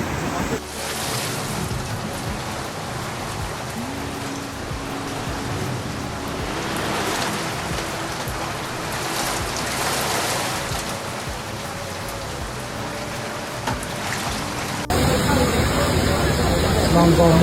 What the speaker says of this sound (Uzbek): Hozirgi paytda O'zbekistonning barcha hududlarida deyarli yomg'ir yog'moqda.